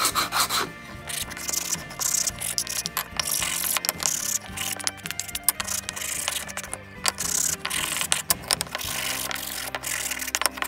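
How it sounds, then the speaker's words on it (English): Small sanding block rubbed over splintery wooden birdhouse pieces in a kids' carpentry project, a steady rasping scrape repeated in quick strokes, close and fairly loud, with light knocks and handling of wood throughout. "So just go over it with a little sanding block just to get rid of the splinters"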